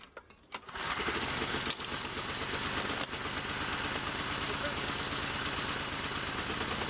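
A petrol lawnmower is pulled over and catches, its engine bursting into a loud, continuous, rapid chugging drone that runs steadily close by after a short initial pull.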